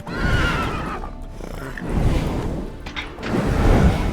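Geralt's horse Roach in The Witcher 3 lets out several spooked neighs and whinnies, mixed with hoof clip-clops, fairly close and loud.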